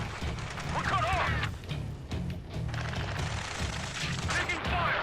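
Dense, continuous gunfire and explosions from the video game Ace Combat 7 rattle on under combat radio chatter, with rapid bursts throughout and a loud, busy mix.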